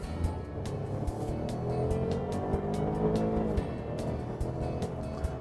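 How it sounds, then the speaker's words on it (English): A 2013 Chevrolet Traverse crossover SUV engine hums and builds under acceleration on a test drive, heard from inside the cabin as a steady rising drone with road and tire noise underneath. "Acceleration is fine. This is still a good engine."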